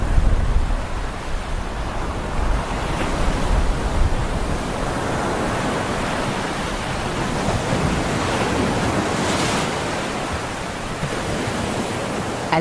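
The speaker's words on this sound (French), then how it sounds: "Les vagues sont puissantes" Powerful ocean waves crash and break on rocks along an African coast, a loud, continuous roar of surf and spray that fills the scene without letup, no voices present.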